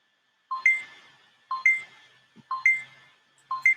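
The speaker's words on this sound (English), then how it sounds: "And when you hear this alarm go off," A timer alarm going off with a repeating electronic beep pattern, a pair of bright tones sounding once per second, four cycles, clear and alone against silence.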